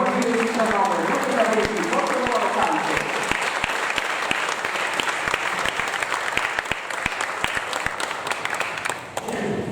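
A crowd applauds continuously at a football club's season presentation, a dense wash of clapping that holds steady for several seconds before tapering off at the end.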